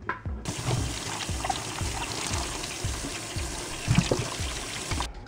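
Apples being washed under running water, a steady pour of tap water splashing over fruit in a sink for several seconds, with irregular soft knocks and splashes as the apples are handled.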